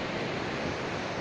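Ocean waves at Santa Monica at sunset, a steady broadband wash of surf with some wind noise, continuous and fairly soft with no voices.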